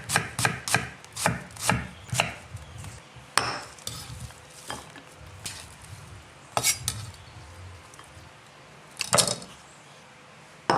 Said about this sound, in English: we want to take our onions and cut them in juliennes